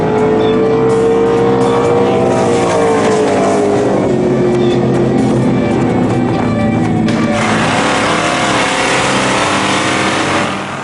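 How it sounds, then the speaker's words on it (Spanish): Race cars circling a circuit laid out on the Gimli airstrip, a loud steady roar of engines with whining tones sliding down as cars pass, continuing throughout with a slight drop at the very end. "La pista de Gimli se ha transformado en un circuito de carreras de coches"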